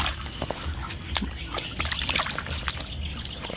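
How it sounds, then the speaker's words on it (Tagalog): Irrigation water rushes and splashes steadily into a rice field nearby, with a continuous high hiss from insects or the flow and occasional sloshing bursts. "malakas yung pasok ng tubig"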